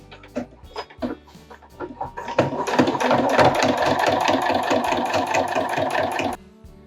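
A sewing machine runs a zipper-foot seam along a zipper on a DIY backpack waist belt pouch, starting with a few short bursts of stitching, then one steady, close, rapid mechanical run that stops abruptly.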